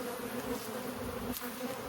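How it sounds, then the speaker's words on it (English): Honey bees swarm densely around a booming hive with a honey super being added, producing a loud, steady, close buzzing drone that holds without a break throughout. "The amount of bees we have is unreal."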